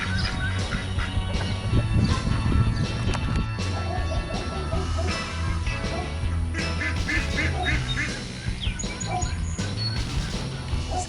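Ducks quacking repeatedly on a farm, a busy, loud mix of calls along with other birds chirping and scattered background clatter, continuous over the whole stretch.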